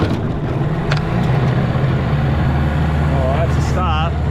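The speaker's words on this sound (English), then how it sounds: "this is a cold start, so I'll go with some choke, bit of throttle, and see if she will go." Small tinny outboard motor cold-started with choke and a bit of throttle, running with a steady low engine drone throughout, with a voice speaking briefly near the end.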